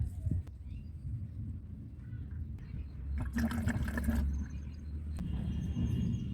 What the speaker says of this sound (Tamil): இதையும் தண்ணியில் மிக்ஸ் பண்ணிவிட்டு நம்ம ஊற்றிக்கலாம்